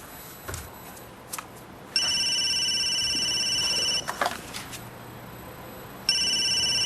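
A landline telephone rings in a quiet room, two long electronic ring bursts with a short click and rustle between them, close and fairly loud, no talking.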